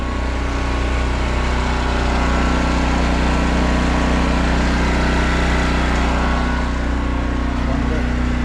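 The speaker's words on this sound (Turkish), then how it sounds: "Jeneratör devreye giriyor." Generator running steadily beside a bus converted into a camper, a loud continuous low engine drone holding even throughout with no pauses.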